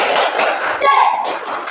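A class of children at a Christian religious education lesson doing a rhythmic clapping ice-breaker, with sharp group claps mixed with loud, close chanted voices in a short burst.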